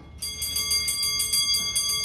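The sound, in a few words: antique clock alarm bell ringing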